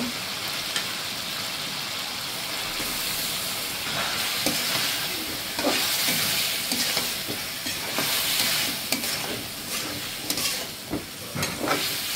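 Fish pieces sautéed with spice paste in a hot pan, a steady loud sizzle and hiss with scraping stirs throughout, close up and without talk.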